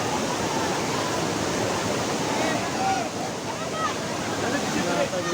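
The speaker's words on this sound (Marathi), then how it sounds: "आता निसर्गाची एक देणगी लाभलेला पळसदरीचा धबधबा" The Palasdari waterfall near Khopoli in the monsoon gives a constant, broad, hissing roar that fills the whole stretch evenly, with a few faint high chirps over it.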